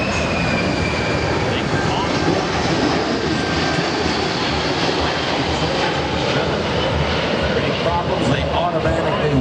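A Boeing C-17 transport jet roars steadily overhead during an aerial demonstration at the 2017 New York Air Show, a loud, continuous broadband rumble that fills the scene without letup.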